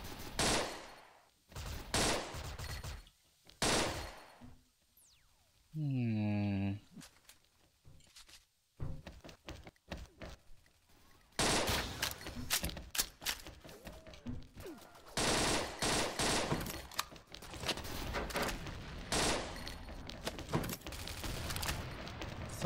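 Rapid bursts of gunfire from the shooting video game XSHOT crackle in dense volleys, with a rising whirring reload-like tone early on and clattering shots dominating the second half, loud and close without speech.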